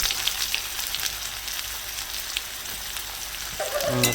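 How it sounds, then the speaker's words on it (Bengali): Chopped onion frying in hot oil with toasted cumin for a village-style egg curry: a dense, steady sizzle and crackle heard up close without any voices, with a brief clatter at the very end. "পেঁয়াজটাকেও লাল করে ভেজে নেবো আমি"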